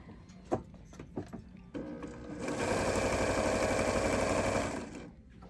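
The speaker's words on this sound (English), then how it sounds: "But you will be sewing all the way around." A sewing machine stitches around the edge of a small bench pillow in a quilting session. A few soft clicks and handling noises come first, then a loud, steady run of rapid stitching for a few seconds before it stops.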